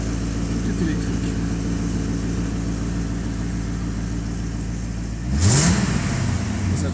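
A Corvette C4 convertible's V8 engine revs up near the end, a brief loud rise over a steady idle rumble.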